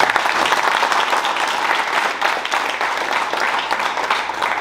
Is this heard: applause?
yes